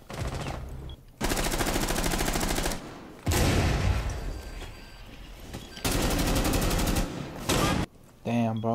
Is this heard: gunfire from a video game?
yes